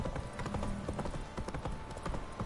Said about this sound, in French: On va y aller au triple galop.